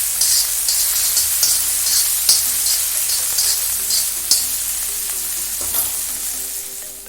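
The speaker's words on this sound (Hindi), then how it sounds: "उड़द की दाल को हम इसमें भून देते हैं।" Urad dal roasts in a pot on a gas stove with a steady, close sizzling crackle and occasional stirring scrapes and clinks throughout.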